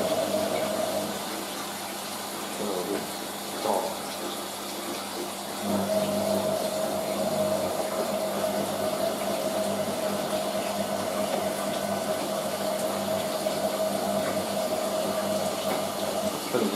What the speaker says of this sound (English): Filling and draining together.